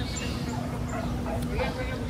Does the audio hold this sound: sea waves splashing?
no